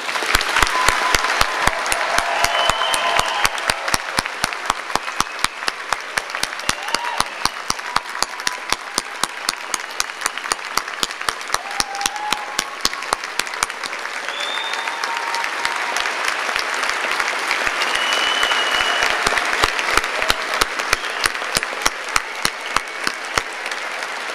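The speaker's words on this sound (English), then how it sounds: "I ask your friends and family to join me in applauding the class of May 2010" A graduation audience of friends and family applauds the May 2010 class at an art and design university, giving long, even, sustained clapping from a large crowd, with occasional distant whoops mixed in.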